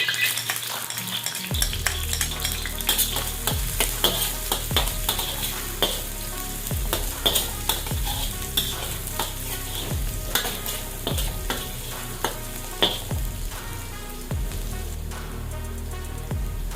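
Garlic drops into hot oil and fries with a sustained, close crackling sizzle, overlaid by repeated rhythmic scrapes of a utensil stirring in the pan, steady throughout and without speech.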